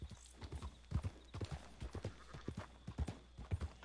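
Horse hooves clip-clop in a steady walking rhythm, close and clear, from the video game Red Dead Redemption 2, with a soft whinny-like sound mixed in.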